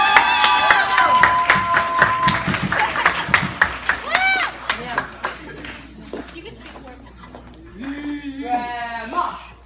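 Guests at a bat mitzvah clap and cheer as a grandmother is called up, a burst of bright clapping with whoops and excited shouts, then rhythmic chanting voices and talk as the cheers fade.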